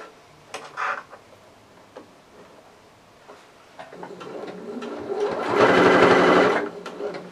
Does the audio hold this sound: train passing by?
no